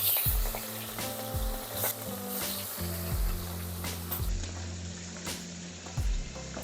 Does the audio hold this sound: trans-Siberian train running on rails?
no